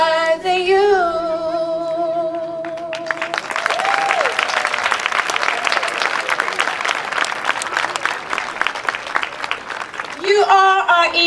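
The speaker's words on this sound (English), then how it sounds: "Please clap louder, guys." An audience at a Relay For Life event claps steadily for several seconds, a dense, sustained burst of applause. Music with singing plays before and after the clapping.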